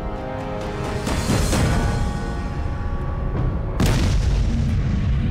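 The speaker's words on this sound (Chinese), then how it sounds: "在明军的一枚大炮射向城下" A Ming army cannon fires down at attackers below a besieged city wall, giving two loud, heavy booms about two and a half seconds apart, each rolling into a long rumbling tail with no voices.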